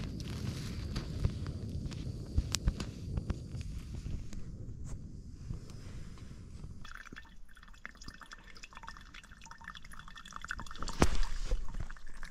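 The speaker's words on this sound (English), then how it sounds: "Filtering water for the bike water so I can drink fast" Water drips and trickles steadily through a water filter, close and faint, with a louder splash near the end and light handling noises.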